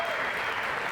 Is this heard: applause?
yes